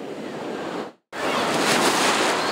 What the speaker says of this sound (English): The sounds of crashing waves